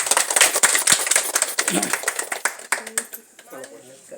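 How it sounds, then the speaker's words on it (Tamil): A crowd claps in a dense burst of many hands, loud at first and gradually thinning out, with scattered voices underneath. "கைதட்டுங்க."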